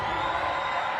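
Home fans cheer and whoop for a women's LOVB volleyball match between Nebraska and Salt Lake, a steady, dense roar of crowd noise filling the arena without a break.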